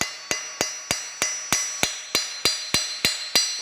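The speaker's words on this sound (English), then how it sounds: "when you're riveting, you take a ball peen hammer" Ball peen hammer flattening a rivet on an anvil while making Christmas ornaments: twelve sharp, ringing metallic strikes at a steady, even rhythm, close and loud, with no talking.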